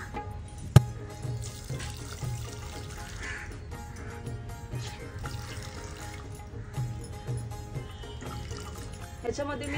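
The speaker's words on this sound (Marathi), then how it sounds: "1/2 ग्लास पाणी टाकून वाटून घेणार आहे" Water poured into freshly ground coconut paste for making solkadhi, heard as a soft trickling splash beneath a voice, with a sharp clink near the start.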